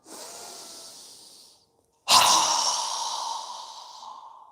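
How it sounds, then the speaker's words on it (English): During a yoga breathing exercise, a soft drawn-out breath fades into a brief silence. A sudden forceful exhale through a wide-open mouth follows, close and loud, tapering off slowly. "exhale with a strong breath with our mouth open wide as we lower our arms and hands down"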